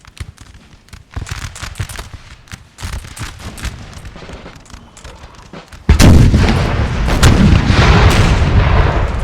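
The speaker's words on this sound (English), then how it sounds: "Glorious, glorious cannon fire." Cannon fire in a Napoleon: Total War multiplayer battle, with scattered booming shots that give way to a loud, dense, continuous barrage of artillery and musket-like cracks.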